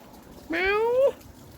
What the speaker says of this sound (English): The cat's just crying out there.